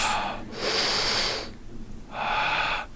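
A brass player takes deep belly breaths, two loud, close inhales separated by a short pause, with no talking over them.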